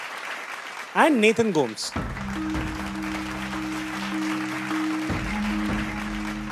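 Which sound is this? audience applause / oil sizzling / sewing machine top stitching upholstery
audience applause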